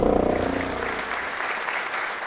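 Clapping rings out at a community college nursing pinning ceremony as families pin more than 30 graduates. The applause is steady and fairly close, and a voice fades out beneath it at the start.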